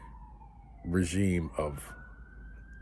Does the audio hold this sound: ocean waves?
no